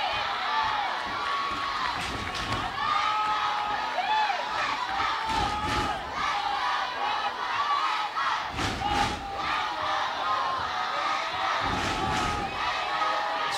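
A big crowd with many youngsters cheers and shouts at a college softball game between Arkansas and Georgia. The roar is loud and sustained throughout, with surging yells and whoops.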